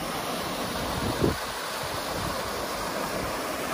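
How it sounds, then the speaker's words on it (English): Water rushing steadily down a creek tributary waterfall in the hills above Fawnskin at Big Bear, California, a continuous broadband roar close to the microphone with no talk. "All this water is coming from the hills above Fawnskin here."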